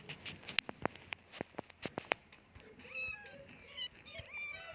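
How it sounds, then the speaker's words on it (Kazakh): A cartoon cat in the Toca Boca video game: a quick series of sharp tapping clicks, then several bright, close meows in a row. "Вау, мынау мысық маған қатты ұнап қалды."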